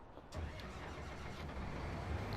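In the Farming Simulator 19 video game, a truck engine cranks and catches after a brief click, then settles into a steady low idle rumble, fairly quiet and close with no talking.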